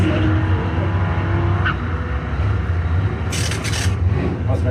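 Drag race cars at a Ford-versus-Mopar Street Trophy event roar loudly and continuously from nearby, with steady low engine drone and brief higher bursts, while an announcer talks over the noise.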